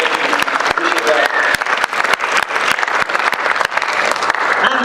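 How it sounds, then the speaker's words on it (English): Crowd at a spoken word showcase claps in a quick round of applause, sharp individual claps audible within the steady roar, loud and close throughout. "can we have a quick round of applause for everybody?"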